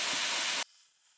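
Broadband grinding of a knife bevel on a blade made from an old rusty rasp, a loud steady hiss-like roar for about half a second that cuts off abruptly, leaving faint room noise.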